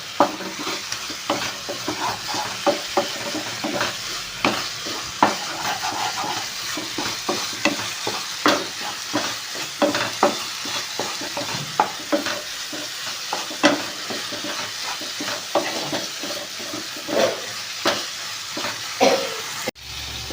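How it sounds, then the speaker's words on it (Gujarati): Beetroot halwa cooking in ghee, stirred continuously with rapid, rhythmic scraping and clicking of a spoon against the pan over a soft sizzle, up close. "હવે સાંતળશું એટલે ઘી છૂટું પડશે અને સરસ મજાનું ટેસ્ટી પણ થશે ફક્ત આપણે એક બે મિનિટ એકાદ મિનિટ હલાવીએ"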